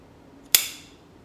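Airline tubing being cut, a single sharp snip that snaps loudly and close, then fades quickly into a quiet room.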